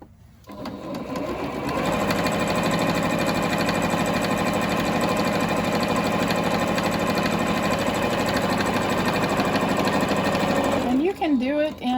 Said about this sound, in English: I sew the open side closed